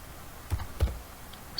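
A few sparse keystrokes on a computer keyboard, two distinct soft clicks close together followed by a faint third, quiet and alone against a low background hiss.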